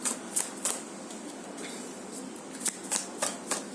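Tarot cards are shuffled close by, making quick riffling bursts at an irregular rhythm over a soft room hiss.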